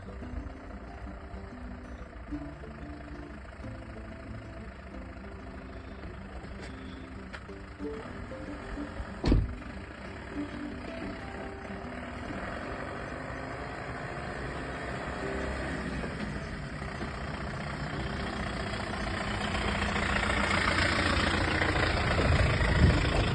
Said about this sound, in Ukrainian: Все, пані Оксана їде. Opel Frontera.